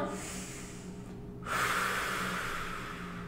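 Deep breaths taken during a yoga-style stretching and abs exercise: a soft airy exhale followed by a stronger, louder breath rush, close to the microphone with no talking.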